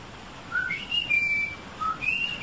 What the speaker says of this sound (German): Ich pfeife noch einmal.